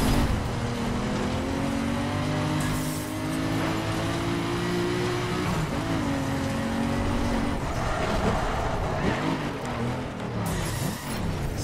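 Godzilla Dragster in The Crew Wild Run pulling repeated wheelies, a steady loud engine drone climbing in pitch, dipping, then revving again with brief tire noise.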